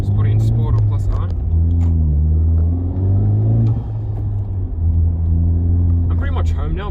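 A 2019 Honda Civic Type R FK8 hums with a steady low engine drone from inside the cabin while driving, loud and continuous with slight pitch shifts, as someone talks over it throughout.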